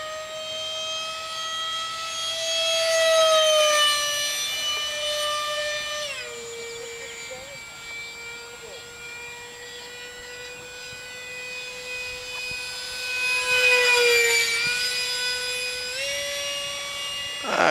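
A small F-86 Sabre park flyer RC jet pushed to full throttle makes a loud, whining electric ducted-fan howl that rises and falls in pitch as it makes close passes, with no talk over it.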